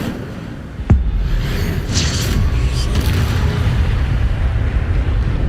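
A fire spell cast in the video game Hogwarts Legacy: a sharp booming burst near the start, followed by a sustained roaring whoosh over steady game background noise.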